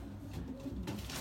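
A pigeon coos softly inside a racing pigeon loft, giving a few low, throaty rolling calls at close range against a quiet background.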